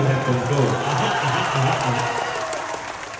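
An audience applauds during a patriotic poetry recitation about the Red Fort, a dense, steady wash of many hands clapping that holds for about three seconds and then eases slightly.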